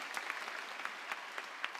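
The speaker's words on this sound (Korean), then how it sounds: "모든 영광 하나님 앞에 영광의 박수 올려드리겠습니다." Applause from a church congregation at a special early-morning revival service, a steady patter of claps with a few sharper hits, moderately quiet and alone without voices.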